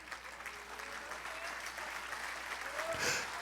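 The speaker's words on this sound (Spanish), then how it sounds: "Dele ese aplauso al Señor." Church congregation applauding together during a Spanish-language service, a steady wash of clapping from many hands throughout, with faint voices mixed in.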